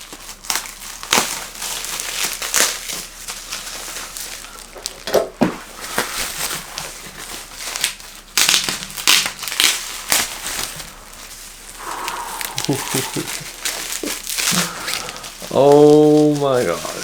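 Cardboard box holding a Superman omnibus being cut open and bubble wrap packaging pulled away, with close crinkling, rustling and scraping that runs steadily throughout, a brief voice near the end.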